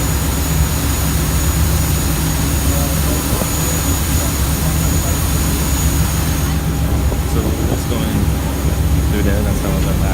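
A loud, steady low boat engine rumble on the Bosphorus with constant vibration droning throughout, close by, with indistinct voices faintly underneath.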